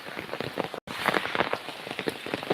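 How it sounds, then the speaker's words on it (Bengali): Heavy rain pours steadily over a village at Mukshudpur, a dense hiss of drops drumming on surfaces close by, broken once by a split-second dropout. "এখন প্রচুর পরিমাণে বৃষ্টি হচ্ছে গ্রামে"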